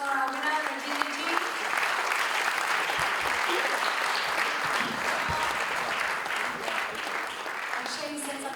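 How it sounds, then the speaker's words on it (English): Sustained applause from the audience at a health awards ceremony honours the winner, many hands clapping at a steady, full level for several seconds with faint voices underneath. "And how about a big round of applause for our winner, Rajini ji?"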